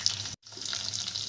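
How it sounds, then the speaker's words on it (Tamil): Chopped small onions, curry leaves and spices sautéing in a hot pan for a spicy fish curry, a steady close sizzle that drops out briefly and then resumes, with no talk. "இப்போ இதை நல்லா வதக்கி எடுத்துக்கலாம்."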